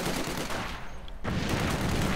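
Machine gun fire in the Company of Heroes 2 video game, dense rapid bursts with a brief gap before the firing resumes, loud and continuous.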